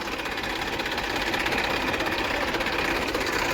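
A tractor engine stuck in mud during a stunt runs with a steady, busy mechanical rattle and hum, close and fairly loud, holding constant throughout with no talk.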